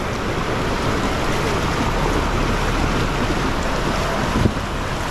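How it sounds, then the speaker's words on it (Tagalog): Rough sea waves at Blue Rock Lagoon churn and roar steadily throughout, with gusty wind buffeting the microphone, loud and close. "Grabe alon, lakas."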